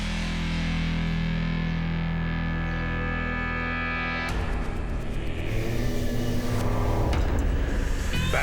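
Dodge Super Bee muscle car engine revving, a loud, distorted rumble held steady at first, then breaking into rougher, choppier bursts as the revs change.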